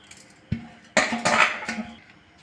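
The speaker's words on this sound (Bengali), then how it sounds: "চালটা দিয়ে দিয়েছি" Rice tipped into a kadai, a pan, for khichuri, with sharp metallic clanks and a rattling pour that grows loud and settles over about a second, alone with no talk.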